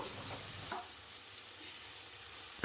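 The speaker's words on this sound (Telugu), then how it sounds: "అది టమాటా మెత్తపడేదాకా ఫ్రై చేసుకున్నాం" Tomatoes frying in a pan for a Korameenu fish curry, a soft continuous sizzle close by and fairly quiet, with a light scrape near the end.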